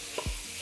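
Ground beef is broken up in a frying pan with a utensil, giving quiet scraping stirs over a soft, steady sizzle, brief and close, with no talking.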